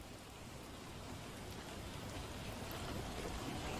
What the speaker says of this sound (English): The rain isn't in game?